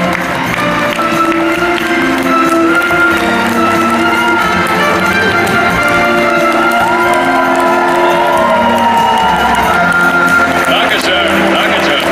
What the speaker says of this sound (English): Give a big round of applause for Gil Gerard!